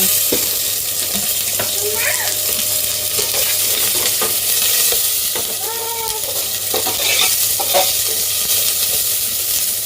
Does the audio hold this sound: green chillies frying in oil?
yes